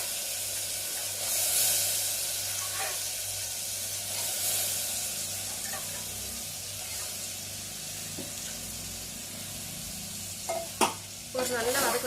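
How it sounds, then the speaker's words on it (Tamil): Soaked cowpeas fry in a pot of sautéed masala for a one-pot biryani. A steady sizzle and hiss runs throughout, with occasional stirring scrapes and a couple of sharper clinks near the end. "ஒரு நல்லா வதக்கிக்கோங்க."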